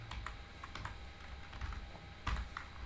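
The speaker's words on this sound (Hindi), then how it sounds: "प्रिंट कराने के लिए हम लोग लेंगे जैसे इंटीजर तो परसेंटाइल डी" Computer keyboard clacking as C code for printing array values is entered, quiet irregular clusters of keystrokes with short pauses between bursts.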